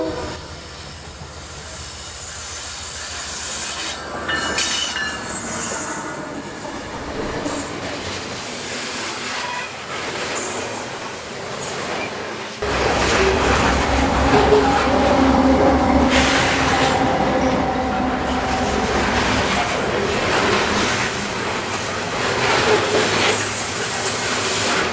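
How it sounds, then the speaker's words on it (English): Canadian Pacific 801 coal train rolling along the Columbia River, a steady loud rumble and hiss of passing railcars that grows fuller and nearer partway through, with faint wheel squeal over the continuous roar. "And that coal train was Canadian Pacific 801."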